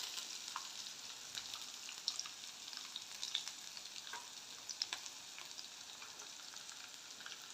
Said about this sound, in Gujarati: ત્યારબાદ એમાં આ લીમડાના પત્તા નાખશું. થોડા તલ નાખશું.